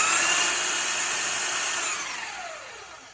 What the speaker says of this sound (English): Let's see what kind of RPMs this motor has before I start tweaking things.